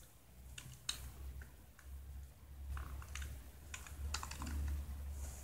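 Commands being typed on a computer keyboard while setting up a Proxmox VE server, with quiet irregular clicks and key taps over a low steady hum.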